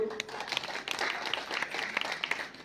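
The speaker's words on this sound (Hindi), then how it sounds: "एक बार तालियां बजा दो।" Scattered clapping from an audience at a poetry recital, uneven and moderately loud, with a voice speaking over it.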